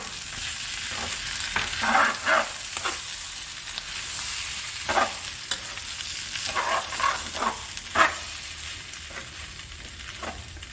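Samosa filling being mixed in a pan on a stove that has just been switched off, a low steady sizzle with repeated scraping and stirring strokes, irregular and close.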